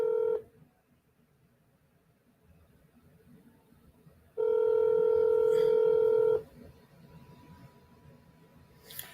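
Telephone keypad tones sound on a phone: a short beep at the start, then a sustained, loud tone lasting about two seconds after a quiet gap, followed by soft background noise.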